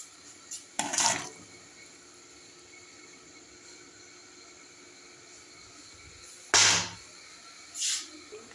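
Raw shrimp poured into melted butter in a pan for a Bengali prawn malai curry, giving a few short sizzling splashes with quiet gaps between them.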